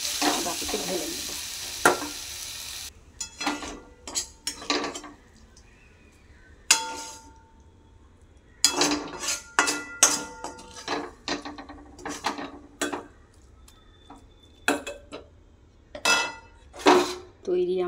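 Banana flower curry being scooped from a pan into a bowl after the gas is switched off, with clinking spoon-on-metal scrapes and knocks in irregular bursts, close by.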